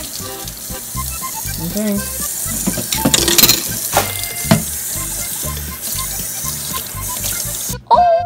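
A dish is washed under a running kitchen tap, a steady loud rush of water with clinks and scrubbing throughout, and a brief spoken word near the end.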